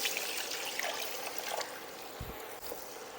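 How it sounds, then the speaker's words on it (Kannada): Three cups of water poured at once into roasting semolina in a pan for rava halwa, giving a continuous close hiss and sizzle with a brief low splash. "ಈಗ ನಾನು 3 ಕಪ್ಪು ನೀರಷ್ಟು ಒಟ್ಟಿಗೆ ಹಾಕೋತೀನಿ."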